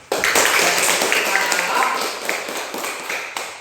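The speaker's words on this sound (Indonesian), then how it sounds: "mari kita tepuk tangan untuk teman kita ini" A classroom of students claps together for a classmate, a dense, loud burst of applause that carries on steadily for a few seconds before tapering off.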